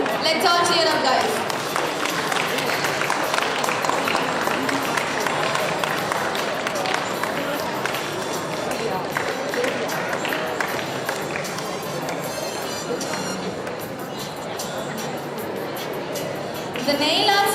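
A school event audience applauds and cheers a prize winner with steady, dense clapping and crowd noise lasting throughout, loud and close, with chatter mixed in.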